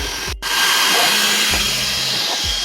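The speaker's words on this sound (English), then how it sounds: "Let's see if the Creality Falcon 2 can actually engrave an image on here." Creality Falcon 2 40W laser engraver working on bare stainless steel: a steady, loud airy hiss like a fan or air assist runs throughout, with a brief dip near the start and faint low thumps of the head moving.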